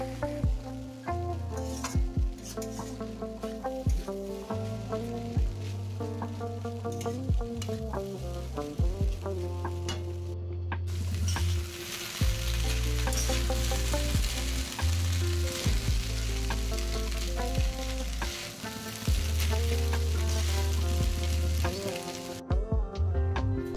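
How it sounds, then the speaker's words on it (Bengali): Maggi noodles with masala being stirred in a frying pan, a steady loud sizzle and frying hiss with scraping stir strokes running throughout, close up and without talk. "ম্যাগি মশলাটা দিয়ে খুব ভালো করে ম্যাগিটাকে নাড়াচাড়া করব।"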